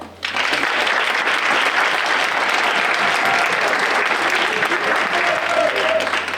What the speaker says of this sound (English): I want to give a round of applause to my dad and my mom